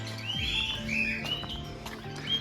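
Birds at Bondla Wildlife Sanctuary zoo in Goa chirp and tweet with high, thin calls over a steady low hum, and a few soft rustles and taps can be heard.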